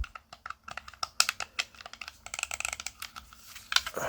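Buttons on an XYAB Split Pro wireless controller for Nintendo Switch are pressed in quick, uneven bursts of sharp, close plastic clicks, with no talking.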